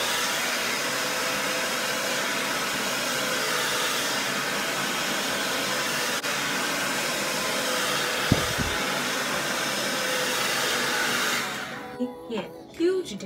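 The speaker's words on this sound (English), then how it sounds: "You blow dry the root only." A hair dryer roars steadily and close while blow drying curly hair at the roots, then cuts off near the end, leaving brief faint handling noises.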